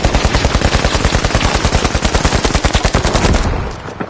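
Rapid automatic gunfire from a video game match in The Finals, a loud, continuous stream of evenly spaced shots lasting about three and a half seconds before cutting off abruptly.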